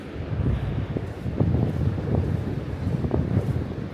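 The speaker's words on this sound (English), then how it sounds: "You can tell it's really windy here" Wind rumbles steadily against the microphone in Tenby, Wales, a low continuous blustery noise with faint rustling gusts.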